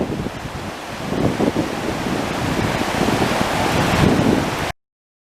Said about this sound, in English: Down there's the Rose River.